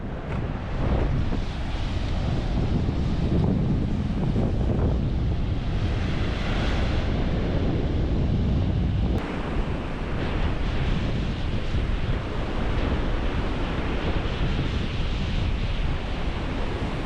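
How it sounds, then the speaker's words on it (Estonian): Wild sea waves crashing on a windy shore about a hundred metres from a forest, continuous loud surf roar with heavy wind buffeting the microphone, steady throughout with no talk. "Täna on väga metsikud lained."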